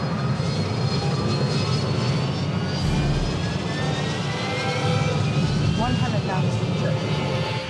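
An EasyJet airliner's jet engines during takeoff make a loud, continuous roar with a whining tone, heard from inside the aircraft, with faint voices beneath it.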